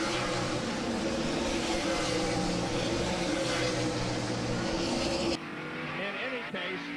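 NASCAR race cars on a road course, engines roaring close and loud with tire skidding as cars spin, then cutting abruptly to quieter engine noise near the end.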